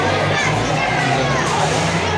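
Busy crowd murmur at a family resort breakfast in Virar near Mumbai, a steady wash of many overlapping voices with children's chatter and shouts, loud and continuous throughout.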